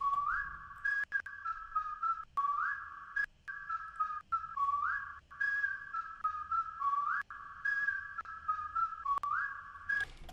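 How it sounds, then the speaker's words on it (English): A whistled sample melody of short rising and falling notes, made in FL Studio for a beat remaking a rap song, repeats in steady phrases, loud and clear with no other sounds. "That's how the whistle sounds."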